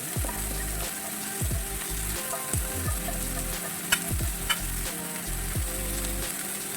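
Red ponnanganni greens sautéing in a pan give a steady close sizzle, with repeated scraping and stirring strokes of a spoon through the leaves and a couple of sharp clinks near the four-second mark.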